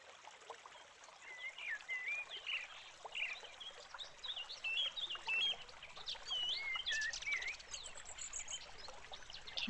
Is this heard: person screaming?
no